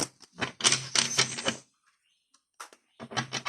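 Oracle cards are shuffled and tapped on a glass desk, making sharp clattering and rattling bursts with brief pauses between them, close and fairly crisp.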